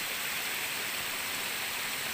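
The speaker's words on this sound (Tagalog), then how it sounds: "mababa lang siya na talon pero pwede na rin dahil malinis naman" A small, low waterfall in a forest, a constant broadband rush of falling water that stays even and close with no other sounds.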